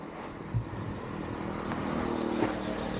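A two-stroke Yamaha YB100 motorcycle setting off on a road, its engine a steady buzzing drone that builds slightly as it pulls away, with no talking.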